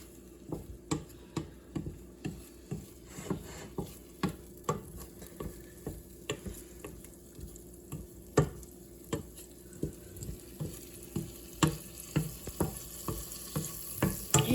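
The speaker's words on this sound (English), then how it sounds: "Can you hear that sizzle?" Homemade deep-dish pizza cooking with a soft sizzle beneath a steady run of sharp ticking and crackling pops that repeat at a fairly even pace, fairly quiet and close, with no one talking.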